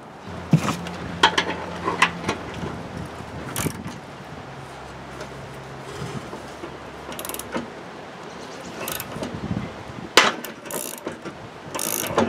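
A three-jaw puller ratchets on a lawn tractor cutting deck spindle bearing, giving bursts of sharp clicks and short creaks spread irregularly over several seconds, close by with quiet gaps in between.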